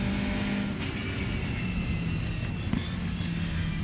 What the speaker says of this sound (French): Et on fait rugir le moteur